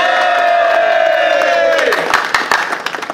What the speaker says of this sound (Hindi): तो अपने लिए ताली बजाएंगे जोर से।